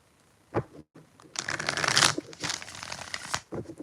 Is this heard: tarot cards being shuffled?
yes